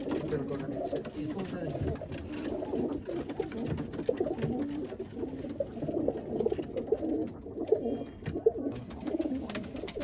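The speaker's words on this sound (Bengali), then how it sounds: "নটটা পদ্মনেজের কবুতর" Pigeons of the padmanej breed coo in a steady, low murmuring stream with soft wing flutters, close and continuous throughout, with a voice talking faintly in the background.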